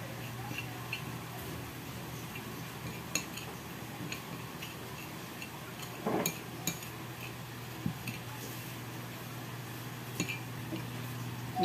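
Spoon clinking and scraping against a glass while stirring spirulina powder to dissolve it, soft intermittent taps and chinks over a quiet steady hum, with a few sharper knocks.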